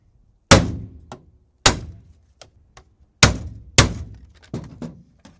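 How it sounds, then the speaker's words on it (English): A car sideview mirror is struck repeatedly until it breaks off, with about five sharp, loud thunks spaced irregularly, each followed by a quick rattling decay and smaller knocks between, heard alone and close. "Well, it knocked the mirror off."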